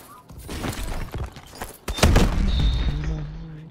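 A Mollus launcher fires in a Mayhem private match, a sharp burst around the two-second mark followed by a lingering rumble and a brief tone, with a close loud blast over game noise.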